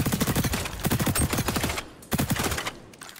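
Rapid automatic fire from an MDR rifle in the shooter game XDefiant, several close, loud bursts of shots with a short pause between them.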